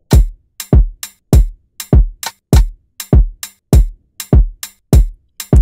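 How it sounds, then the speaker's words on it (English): A punchy electronic percussion loop for a Nigerian dancehall afrobeats track repeats steadily, with deep thuds and sharp clicky hits in a quick, syncopated pattern. "Then next up, I have this percussion here."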